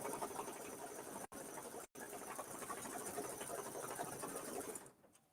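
A computerized embroidery machine stitches down the raw edge of a mini-quilt appliqué, running around the shape twice. Its steady, rapid mechanical whir carries on continuously with two very short pauses, then fades out at the end.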